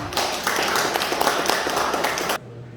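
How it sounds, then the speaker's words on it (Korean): Farmers in a cooperative lecture audience applaud a visiting agriculture expert, a dense, steady burst of many hands clapping together that stops abruptly after a couple of seconds, leaving a quiet room. "큰 박수 부탁드리겠습니다"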